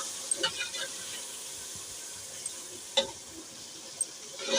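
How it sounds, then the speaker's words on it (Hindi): Masala frying in a pan, a faint steady sizzle and hiss with a few light stirring clicks and scrapes, no talk over it. "फिर इसके करेंगे अच्छे से भुनाई, और इसको अच्छे से भून के ना फिर इसमें डाल देंगे हम तोरियां।"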